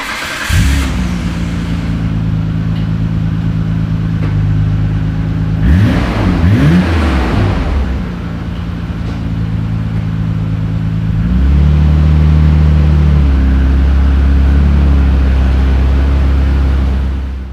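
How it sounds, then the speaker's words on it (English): A Nissan Skyline 400R engine idles with a low, steady drone, then revs briefly, settles, and climbs to a louder, deeper exhaust rumble held near the end. "we need to do possibly like not a stupid rev, but we need to obviously let people hear it a little"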